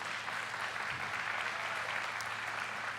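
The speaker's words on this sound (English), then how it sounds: "And keep that applause going for his two assistants" Steady audience applause at a glassblowing demonstration, a continuous, moderately distant wash of many hands clapping throughout, with no speech over it.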